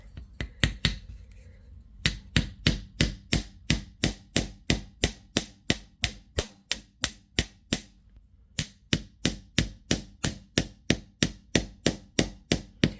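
Rapid, evenly spaced metallic taps of a small hammer striking a copper ring, dozens of sharp ringing blows with a couple of short pauses.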